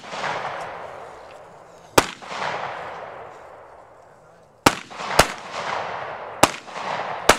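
Handgun shots at a shooting competition ring out outdoors, one sharp crack followed by a cluster of four more spaced irregularly, each with a long echoing tail, with no talk.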